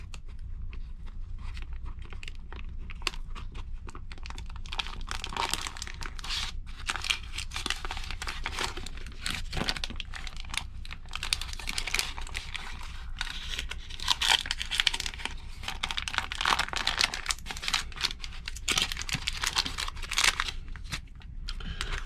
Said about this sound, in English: So it peels off the paper okay.